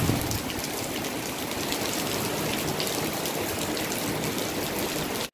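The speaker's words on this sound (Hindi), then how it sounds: "बारिश इतनी तेज है कि किचन की खिड़की से पानी जो है ना अंदर आ रहा है" Heavy rain pours steadily outside a kitchen window on a rainy day, a dense continuous hiss and patter of water striking surfaces with trickling runoff, loud and unbroken throughout with no voices.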